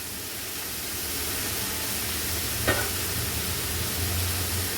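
Grated coconut sautéed in a pan for tapioca adai, a steady soft sizzle with faint stirring and one brief scrape near the middle, heard alone without talk.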